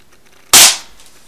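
A single sharp airsoft M4 shot cracks out loud and close, a sudden bright burst that fades over a fraction of a second against quiet surroundings.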